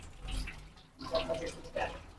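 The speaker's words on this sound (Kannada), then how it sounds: "ಇದಕ್ಕೆ ಇನ್ನೊಂದು ಸ್ವಲ್ಪ ನೀರು ಹಾಕ್ತೀನಿ" Water is poured into a pot of simmering potato gravy, giving splashy bursts at close range that come and go in a couple of surges over a low kitchen background.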